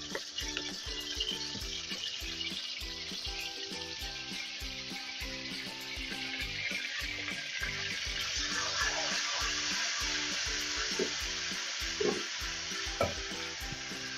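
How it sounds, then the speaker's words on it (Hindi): Ginger-garlic paste sizzles in hot oil for haleem, a steady close crackle and spatter running without pause and growing slightly fuller toward the end, with a few clinks of a stirring spoon. "इसी तेल के अंदर सबसे पहले आप डालें अदरक लहसुन का पेस्ट 1 टीस्पून"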